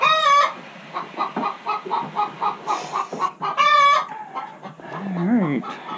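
Farm chickens clucking close by on a homestead, a run of short repeated clucks with a couple of louder drawn-out squawks and calls mixed in.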